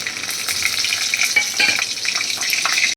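Nigella seeds and slit and whole green chillies crackling in hot oil for a fish and potato curry, a steady close sizzle with small pops throughout.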